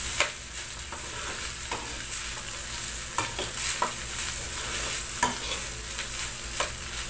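A utensil stirs and scrapes mixed vegetable fried rice in a hot pan over a constant sizzle, with repeated sharp metallic scrapes at an irregular rhythm and no voices.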